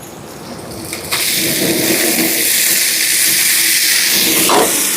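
Onions and tomatoes sauté in a hot pan. A quiet background gives way to a sudden loud, dense sizzling hiss that holds steady to the end, close and without talk.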